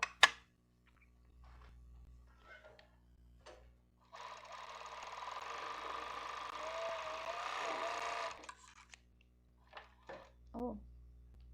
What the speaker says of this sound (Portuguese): Vou costurar outro pedacinho.